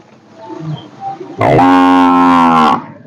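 A single loud, close bovine moo rings out for over a second at a Sahiwal and Fleckvieh bull calf farm, following quieter low murmurs and background farm sounds.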